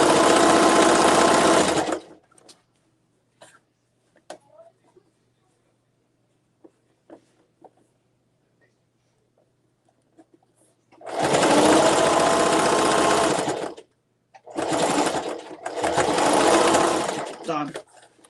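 Sewing machine stitching along the very edge to close up a zipper tote bag, three loud close bursts of whirring, the first at the start and two more after a long quiet stretch broken by small handling clicks.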